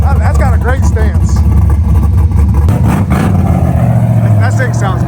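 A naturally aspirated car engine revs loud and close in a continuous deep roar, with the pitch rising and falling as the throttle changes.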